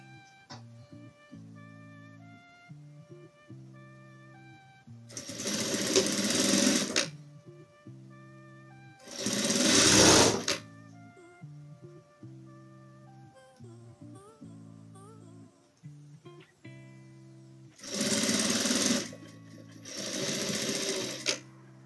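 Sewing machine stitching tricoline fabric strips for a patchwork rug, running in four loud bursts of rapid whirring with quieter pauses and faint handling between them.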